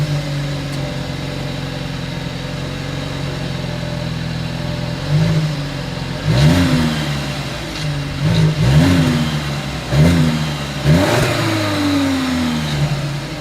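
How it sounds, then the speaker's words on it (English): A 2022 Volkswagen Passat's exhaust idles steadily, then several quick throttle blips rise and fall in a row, each rev swelling briefly before settling back to idle, close and fairly loud. "As always, here is that exhaust clip."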